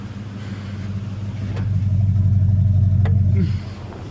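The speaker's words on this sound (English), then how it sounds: "I'm gonna have you get in it in 4 low and just try and crawl it" A Toyota Tundra crawls off-road in 4 low, its engine a steady low rumble that swells slightly in the middle and then eases, close by, with faint voices in the background.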